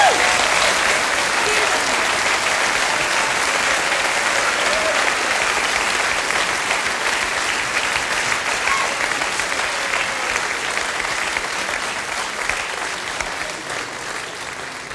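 A large audience at a folk music TV show in Bruck an der Mur applauds a singer, a dense, steady wash of clapping that lasts the whole stretch and fades only slightly toward the end, with no talking over it.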